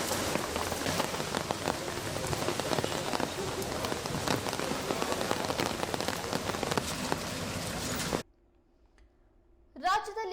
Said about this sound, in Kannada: ಈ ಮಳೆಯ ಆರ್ಭಟ ಜೋರಾಗಿಯೇ ಇದೆ